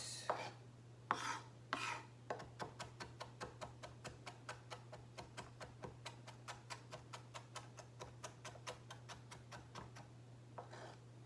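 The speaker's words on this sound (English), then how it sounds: "Just keep on chopping it." A knife chops a pepper rapidly and rhythmically on a cutting board, dozens of evenly spaced taps close by over a faint steady hum.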